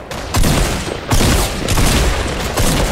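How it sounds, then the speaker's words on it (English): Shotgun blasts in a video game battle, four heavy booming shots spaced roughly half a second to a second apart, each loud and close with a short decaying tail. "Oh, this shotgun shooting sevens."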